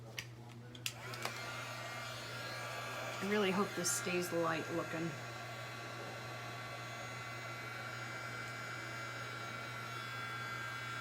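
A hair dryer blows steadily and nearby as it melts wax on a chalked canvas, a continuous whooshing hum that goes on throughout while someone talks briefly over it.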